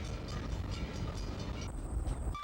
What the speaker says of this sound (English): departs from Bellows Falls on a beautiful, scenic, and relaxing 26-mile train ride